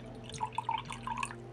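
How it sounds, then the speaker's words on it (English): Humm kombucha tea being poured into a glass, a short run of light drips and trickles close to the mic, alone without talk. "Let's pour this one and see how he actually looks."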